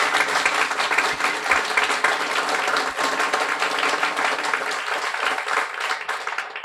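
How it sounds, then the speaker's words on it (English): Audience applause at a guide dog graduation ceremony, continuous dense clapping from a large group that stays steady and loud for several seconds without talk over it. "A warm round of applause for Miranda."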